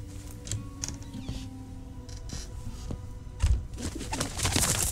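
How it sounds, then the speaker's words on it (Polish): Pigeons coo softly amid a derelict bedroom's ambience in Syberia The World Before, with low repeated calls over a steady background hum and scattered faint clicks and rustles, no voices. "O, ptaki."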